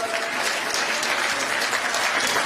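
Crowd at a political rally closing the Chhattisgarh Nyay Yatra breaks into loud, dense applause for an opposition leader, many hands clapping steadily and close throughout.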